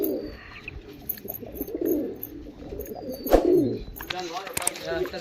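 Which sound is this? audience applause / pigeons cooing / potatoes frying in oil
pigeons cooing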